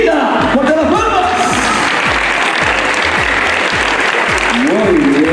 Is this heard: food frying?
no